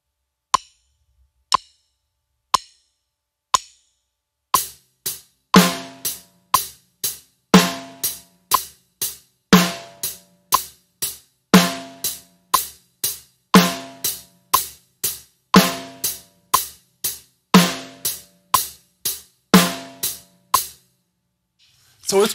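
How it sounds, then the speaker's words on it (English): A drum kit plays hi-hat and snare drum: a few sparse opening hits, then a steady, evenly spaced hi-hat pattern with the snare landing on beats two and four. It is close, crisp and alone, with no talk. "we're playing the hi-hat and the snare drum"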